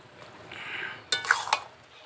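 A spoon stirring turmeric into chalta (elephant apple) pickle in a pan, a soft scraping swirl followed by a few sharp clinks of utensil on metal, close and quiet.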